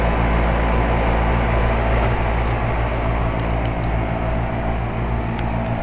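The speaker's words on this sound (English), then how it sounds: "we've all heard louder air conditioners than this one" A 2007 Carrier 2.5-ton central air conditioner that has problems runs outdoors with a steady, droning mechanical hum and fan noise, moderately loud and constant throughout.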